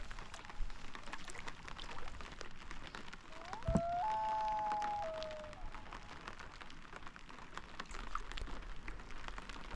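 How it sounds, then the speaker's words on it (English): Rain patters softly at a quiet lakeside campsite in British Columbia, a faint, even hiss of drops with a brief whistling tone partway through. "We did get some of our only rain of the trip at this last stop"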